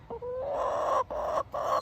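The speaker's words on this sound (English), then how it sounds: "Alright, chicken, star of the show." A chicken clucks close by in a garden, a run of three drawn-out, rising calls with short breaks between them.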